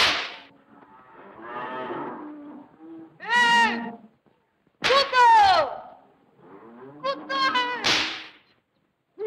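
Cattle low and moo several times at close range, with a sharp crack or snap among the calls and a faint human voice in places.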